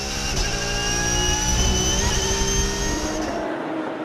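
Racing cars at the Paul Ricard circuit in Le Castellet accelerating together from a rolling race start, a loud, dense roar of several engines revving hard and sustained, cutting off abruptly near the end.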